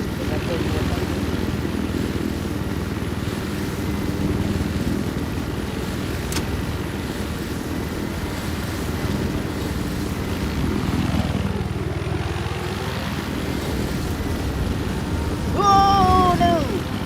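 A helicopter flies in the video game Battlefield 4, its rotor and engine making a constant whirring drone throughout, with a voice talking over it.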